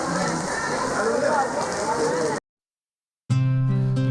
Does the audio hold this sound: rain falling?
yes